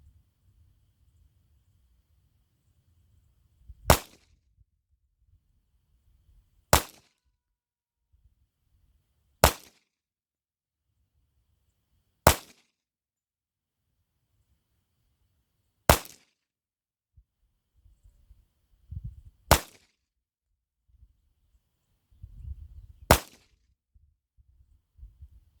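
Single shots from a Kimber Pro Carry 2 .45 ACP pistol, seven sharp loud cracks spaced a few seconds apart with quiet gaps between, plus some low rustling.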